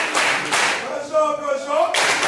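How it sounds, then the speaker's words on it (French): Audience clapping at the launch of a parish pastoral year event in Delmas, Haiti, in two short bursts of dense hand claps with a voice talking between them. "On applaudit ça, on applaudit ça."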